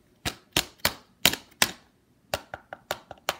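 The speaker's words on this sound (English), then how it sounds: "Sounds like you're knocking your door." A hard plastic hacker mask is rapped with the knuckles, giving sharp, close knocks: five in an uneven run, a short pause, then six quicker ones, with no voices.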